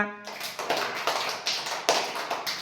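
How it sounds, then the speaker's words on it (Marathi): A group of students claps for themselves in a classroom, steady close applause that swells in a few uneven surges after a brief voice at the start. "आता तुम्ही स्वतःसाठी टाळ्या वाजवून घ्या"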